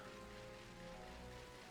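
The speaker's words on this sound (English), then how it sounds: "Old Cemetery is also raining." Rain falling at the Old Cemetery in the Pokemon Sword video game, a steady, even hiss of rainfall with a low hum of ambient game music beneath it, unbroken and fairly quiet.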